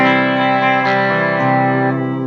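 Sustained electric guitar chords in a clean tone run through an Ibanez PT-5 multi-effects unit, ringing and shimmering with chorus-like modulation, a couple of chord changes played alone and up close.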